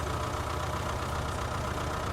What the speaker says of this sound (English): Doing a great job cutting the grass for an auger tractor